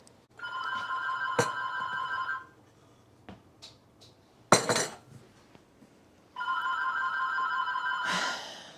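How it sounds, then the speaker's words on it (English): Telephone rings in a home kitchen, two long electronic ringing bursts with a gap between them, fairly loud, plus a few clinks of dishes and a clatter in the pause. "That phone has been my challenge the last couple times I filmed."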